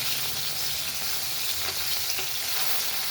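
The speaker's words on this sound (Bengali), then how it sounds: "এখানে হচ্ছে মাছ, বাটা মাছ ভাজা হচ্ছে" Bata fish frying in a pan with oil, a steady close sizzle and crackle running unbroken throughout, with no voices.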